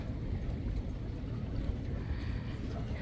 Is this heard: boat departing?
yes